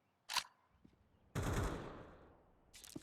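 Gunfire in a Counter-Strike match on the Mirage map: one sharp pistol shot, then after a pause a louder, longer burst that fades out, and a few quieter cracks at the end, with no talk.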